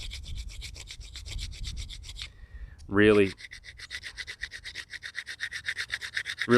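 Steady rhythmic scraping of bone rubbed back and forth against sandstone, with a brief squeaky sound midway and no talking.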